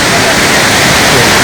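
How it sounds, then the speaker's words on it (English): Kudla Falls, a waterfall dropping more than 100 feet over stone, sends out a loud, dense, unbroken roar of rushing water heard up close. "Kudla Falls, more than 100 feet plus from where it drops."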